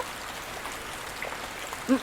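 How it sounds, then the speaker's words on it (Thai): Steady, fairly soft rain falls throughout, an even hiss with a brief low sound near the end. "นับรวมเรื่องที่ต้องมายืนตากฝนแบบนี้ด้วย"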